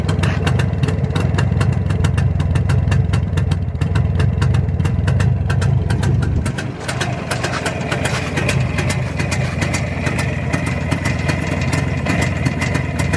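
A Jawa 360 motorcycle engine idles steadily nearby, a loud, even mechanical putter with a rhythmic beat that dips briefly mid-clip, then carries on alone.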